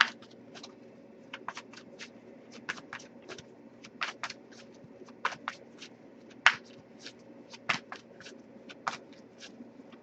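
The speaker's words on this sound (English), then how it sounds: "so I'll give it a few more shuffles" Soft papery riffles and light flicks of a tarot deck being shuffled, in quick irregular bursts, close and quiet.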